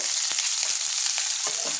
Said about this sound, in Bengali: এবার আমি পেঁয়াজ কুচিটা, পেঁয়াজটাকে হালকা ভেজে নেব